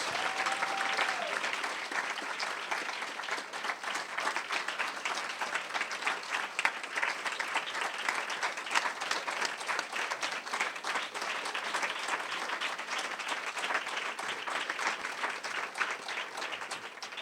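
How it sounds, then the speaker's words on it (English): An audience gives a long, steady round of applause for five speakers at a storytelling event, dense continuous clapping from many hands that holds at an even level without a break. "Please, a nice round of applause for all 5 of our speakers."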